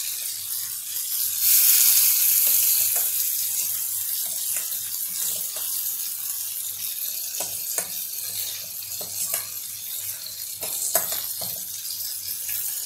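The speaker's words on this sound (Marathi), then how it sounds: "आणि आता या वांगे वाफवण्याचं जे गरम तेल होतं, गरम पाणी होतं, ते मी थोडं यात टाकलं." Hot water is poured into a pan of oil holding steamed brinjal, setting off a loud hiss and sizzle that then settles into a steady, softer fizz, with small clinks and bubbling pops close by.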